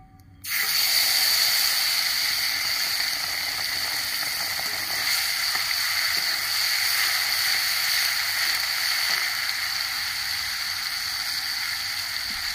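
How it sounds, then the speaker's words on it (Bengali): Soaked cumin and turmeric paste hits hot oil with a sudden burst, then a loud, steady sizzling hiss that holds evenly for about twelve seconds with no talking. "জিরে আর হলুদের গুঁড়ো আমি ভিজিয়ে রেখেছিলাম, সেটা আমি দিয়ে দিচ্ছি তেলে"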